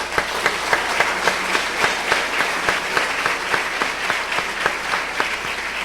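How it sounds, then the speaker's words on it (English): An audience at a 2010 Hall of Fame ceremony gives a sustained round of applause after a choir's songs. Many hands clap steadily and densely from start to finish, with no speech. "let's give it another round of applause."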